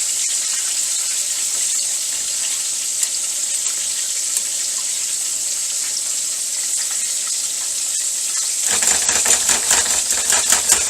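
Water poured into a hot pan of flour-thickened gravy for chicken fried steak, a steady loud sizzling hiss that bursts into rougher bubbling and spattering near the end, with no talk.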